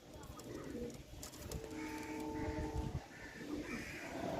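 A pair of Kalsera Andhra pigeons coo softly nearby in repeated low, rolling phrases over faint background noise.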